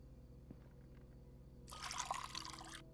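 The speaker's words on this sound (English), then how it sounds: "Need an empty cup to fill water." Water trickling and pouring into a cup in the horror game Fears to Fathom, a bright splashing stream lasting about a second over a low steady background hum.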